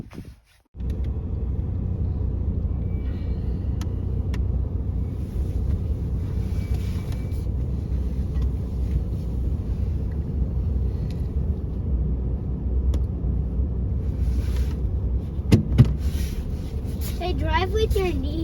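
A truck engine idles as it warms up on a farm, a steady low rumble running the whole way with some wind noise and people talking over it.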